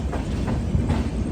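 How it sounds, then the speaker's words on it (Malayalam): Vivek Express pulling into Thiruvananthapuram Central station, a steady low rumble of rolling rail cars with faint rhythmic clatter, close and continuous, no voices. "ഇപ്പം 7:52 ട്രെയിൻ ഇതാ തിരുവനന്തപുരം സെൻട്രൽ റെയിൽവേ സ്റ്റേഷനിലേക്ക് എത്തിക്കൊണ്ടിരിക്കുകയാണ്"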